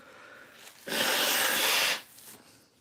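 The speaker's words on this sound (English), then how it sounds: "Let me blow my nose here." One forceful nose blow, a loud breathy honk lasting about a second, close up in a quiet workshop.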